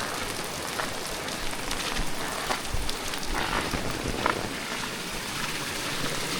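Heavy morning monsoon rain pours steadily over a Konkan village near Ratnagiri, a dense, even hiss of drops close by with no voices.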